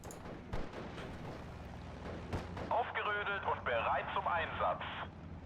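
Panzer tank cannon fire in the Steel Division: Normandy 44 video game, a sharp near shot followed by a dense, rumbling battle din with gunfire and radio-like chatter layered over it.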